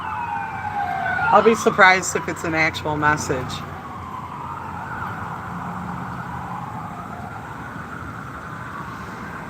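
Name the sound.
ambulance siren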